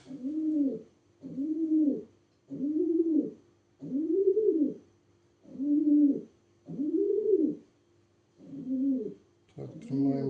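A pigeon coos repeatedly in a steady rhythm, about eight soft rolling calls close by, with a short clatter at the end.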